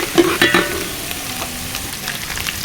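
Fish pieces cook in hot oil for a Telangana-style fish curry, a steady close sizzle with a couple of sharper spatters and stirs at the start.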